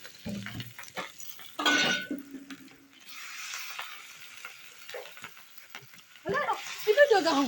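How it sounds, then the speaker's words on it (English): Hot oil sizzles and crackles in bursts as onion fries, with stirring and scraping in the pan between, while a voice talks at times. "I added onion for flavor and to check the heat of the oil. Then I started my frying."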